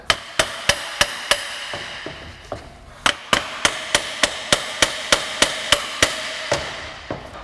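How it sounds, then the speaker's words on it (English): A hammer taps a U-joint snap ring into its groove, a run of sharp, loud metallic strikes at a steady, fairly quick rhythm with a brief pause partway through, no voices. "May need to tap the snap ring into place."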